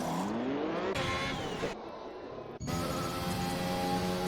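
An F1 race car's engine in the F1 2021 video game, at the Spain round, whines as the car enters the pits. Its pitch shifts and drops, then a sustained engine tone carries on close up.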